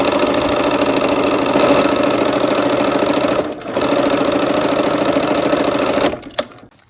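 A sewing machine runs a quarter-inch seam on a quilt block, a loud close continuous whirring hum with a brief dip midway, then stops, leaving a few small clicks.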